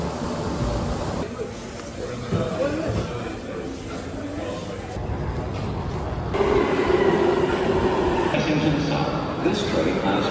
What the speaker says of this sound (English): This train has 8 carriages.